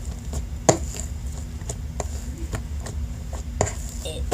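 Shaving cream is mixed into slime, giving soft, irregular squishy pats and wet taps, close up over a low background hum.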